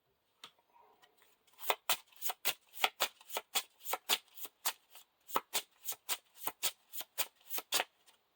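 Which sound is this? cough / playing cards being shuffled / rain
playing cards being shuffled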